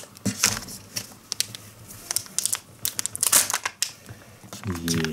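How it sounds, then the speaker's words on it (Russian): Crinkling plastic wrapper of a Joy surprise toy packet being torn open, with bursts of close rustling and crackling throughout and a voice speaking briefly near the end. "Открываем второй Joy."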